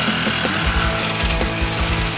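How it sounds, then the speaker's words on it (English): A power tool cuts into the steel frame of a 1963–72 shortbed truck during a conversion, giving a loud, continuous rattling grind with uneven pulsing in a garage. "we're gonna make a cut in the frame."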